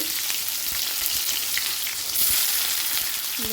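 Chopped onions hit hot oil already seasoned with cumin and mustard seeds, giving a continuous loud sizzle with small crackles and a brief stir near the end.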